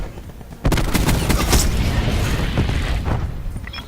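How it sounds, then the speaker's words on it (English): Cluster grenade explosions in a first-person shooter erupt suddenly after a brief quiet moment, a loud dense barrage of overlapping booms and crackling blasts that rolls on for several seconds before easing slightly. "Cluster grenade going out."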